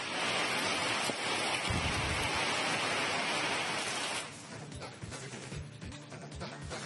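Heavy rain falling in Shivamogga, Karnataka, a dense, steady wash of rain noise that thins and turns patchier after a few seconds.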